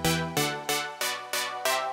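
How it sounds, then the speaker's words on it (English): An Ableton synthesizer runs through a high-pass filter, giving six evenly spaced bright, plucky notes with sharp attacks and quick decays. The notes are clear and loud, with no voices. "I can now get control over a high pass filter."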